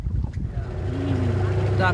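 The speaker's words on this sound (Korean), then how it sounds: "숲 사이를 지나다닐 수 있는 작은 모터보트로 갈아탔습니다" A small motorboat drones low and steady as it heads into an island mangrove forest at sea in Indonesia, its engine hum rising slightly under a person speaking nearby.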